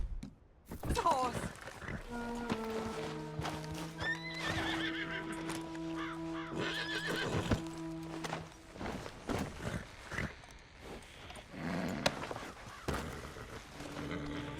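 A horse in Red Dead Redemption 2 whinnies loudly near the start and again midway, with clip-clopping hooves and rustling game sounds running steadily throughout.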